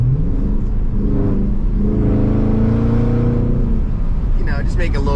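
Dodge Charger Daytona 392 engine revving and accelerating on small roads on a sunny day, a loud continuous rising rumble throughout with someone talking over it.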